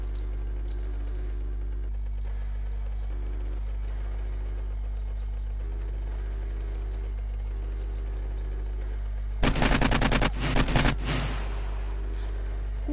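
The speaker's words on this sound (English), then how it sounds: "Just hearing the gunshot there." A rapid burst of video game gunfire, a string of sharp cracks lasting over a second, cutting through a steady low engine-like hum.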